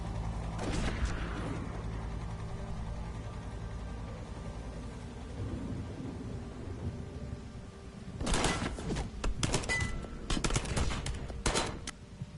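Gunfire after an order to open fire, faint and distant: a low mechanical rumble for most of the stretch, then several scattered clusters of sharp cracks near the end.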